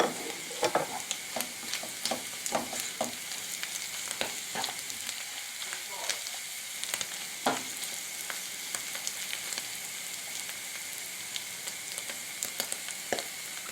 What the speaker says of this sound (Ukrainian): перемішуємо та смажимо 3-5 хвилини.